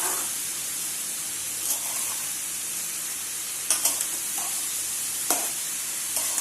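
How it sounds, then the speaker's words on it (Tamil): Ridge gourd and prawns with masala being stir-fried, a constant loud sizzle and hiss of frying, with a few scattered scrapes and knocks of a utensil against the pan, close and without talk. "ஃபுல்லாக மசாலா எல்லாத்துலேயும் மிக்ஸ் ஆகிற மாதிரி நம்ம பரட்டி விடுவோம்"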